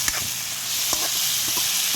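Bottle gourd (upo) sautés in a pan with garlic, onion and tomato, giving a steady close sizzle with light scrapes of stirring.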